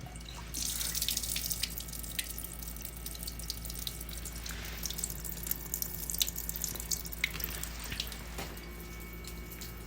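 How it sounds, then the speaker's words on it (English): Water drains steadily from an antique electric washing machine, a continuous close splashing and trickling with occasional drips over a low hum, no talk. "let's go ahead and drain this"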